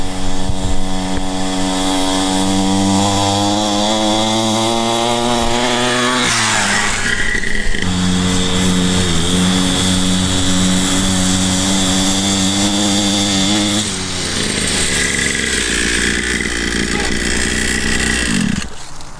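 Cheap Temu 2-stroke pit bike engine straining uphill, a loud, buzzing, high-revving whine that rises and falls in pitch as it revs and shifts, close and continuous, with brief voices.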